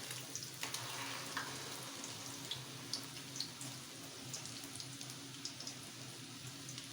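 Chicken shami kababs fry in a pan with a faint, steady sizzle broken by small crackles and pops, quiet and close with no voices.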